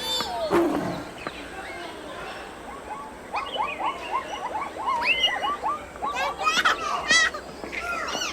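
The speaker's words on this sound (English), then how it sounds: "Did you hear the monkeys?" Monkeys call in repeated high, chattering whoops and squeals over a steady bed of wild background noise, growing busier and louder toward the end.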